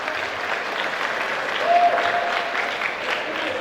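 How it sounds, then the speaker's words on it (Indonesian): Audience applause at a seminar on national spirit held on a university campus in Malang, a steady crowd clapping that swells briefly in the middle, with no speech over it. "Sekali lagi kita berikan tepuk tangan untuk Bapak."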